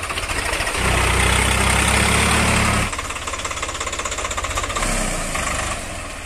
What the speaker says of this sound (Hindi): अभी दोनों ट्रैक्टर को यहां पर लेके उतारेंगे